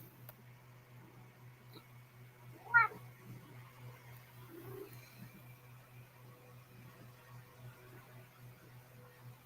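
A house cat gives a single short meow midway, fairly faint against a low steady electrical hum, followed by a quieter small sound shortly after.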